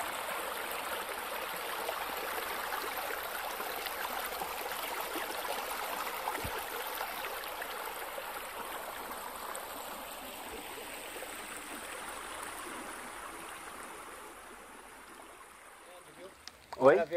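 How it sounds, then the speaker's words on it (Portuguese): Steady rush of water coming downhill into a pipe spout on a rural property, a continuous broadband flow that stays fairly constant, then fades slightly near the end before a brief louder knock. "Olha essa água aí, que beleza, ó. Vem lá de cima, ela entra naquele outro bico do cano ali e vai lá para baixo"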